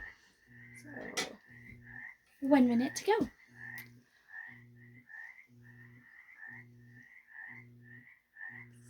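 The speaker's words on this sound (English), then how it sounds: "Sorry about the frogs in the background, if you can hear that." Frogs croak in a steady pulsing rhythm nearby, with high chirping calls overhead, while a person speaks briefly over them.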